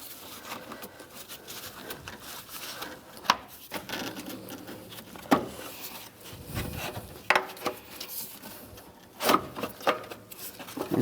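Radiator cooling fan assembly on a 1997-2001 Honda CR-V slid out of the engine bay, heard as close plastic rubbing and scraping with occasional sharp knocks and clunks.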